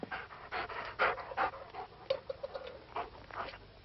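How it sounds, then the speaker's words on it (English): Dogs pant close by in quick, rhythmic bursts of breathy huffs, some louder puffs standing out among softer ones, with no one talking. "The dogs."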